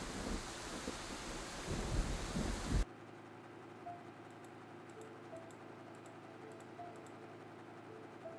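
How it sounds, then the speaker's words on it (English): Heavy rain and thunder rumble outdoors in the video game Scarlet Hollow, a loud broadband downpour that cuts off abruptly after about three seconds, leaving a quiet ambient bed with faint ticking sounds. "You're outside, it's raining,"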